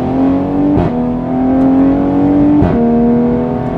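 A Toyota Supra A90 with a ZF automatic, coded for faster shifting, revs up loudly and steadily, its engine tone climbing, then dipping briefly at two quick gear changes before pulling on again.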